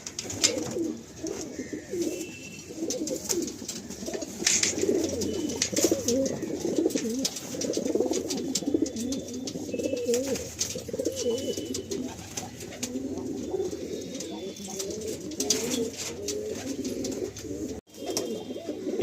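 Andhra pigeons, including a male, at a loft in Kolkata coo repeatedly in low, rolling calls, with scattered sharp clattering, flapping-like bursts as the birds are let out, all fairly close.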